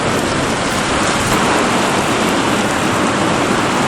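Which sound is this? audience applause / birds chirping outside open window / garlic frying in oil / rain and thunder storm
rain and thunder storm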